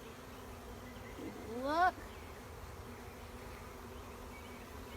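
Honey bees buzz around a frame of pollen and nectar from a nuc during hive installation, a soft steady hum with one bee's louder rising buzz passing close by, and a brief spoken word.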